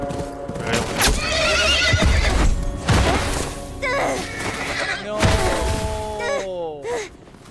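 Horse in The Last of Us video game, heard as several loud whinnies with falling pitch, close by, among thuds and clip-clop hoofbeats, with a voice over parts of it.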